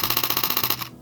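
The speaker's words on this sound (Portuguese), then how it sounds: "Esse aqui é o som do obturador mecânico a 15 frames por segundo." A Canon R7 fires a mechanical shutter burst at 15 frames per second. The clicks are rapid, even and close, run for most of a second and then stop abruptly.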